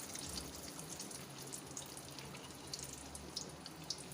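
Two beef shami kebabs frying in a small wok, giving a steady, dense sizzle with scattered crackles and pops throughout, heard close and alone without any talk.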